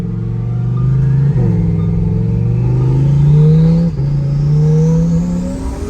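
A twin-turbo Lamborghini engine revs hard and climbs through its gears, with two sharp breaks in pitch marking quick shifts. It sounds close and loud, like the engine heard from inside the car during a ride, and no one speaks.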